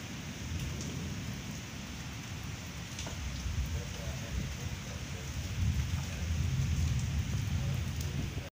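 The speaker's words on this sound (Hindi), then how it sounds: "काफी ज्यादा तूफानी बारिश है" Heavy storm rain pours down steadily in Dadyal, Azad Kashmir, while thunder rumbles low and grows louder toward the end.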